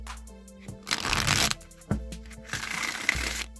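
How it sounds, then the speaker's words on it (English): A Rider-Waite tarot deck is shuffled up close in two quick papery bursts, separated by a short pause, with gentle background music underneath. "I'm going to shuffle a few times and I'm going to pull cards for clarity"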